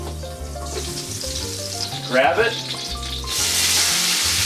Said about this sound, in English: get some of that sizzle, cover it